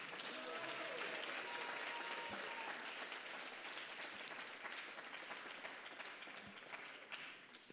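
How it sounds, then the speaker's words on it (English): Sustained audience applause filling a hall at a Sunday feast youth retreat, steady and dense for several seconds before tapering slightly at the end. "let's give them a huge round of applause"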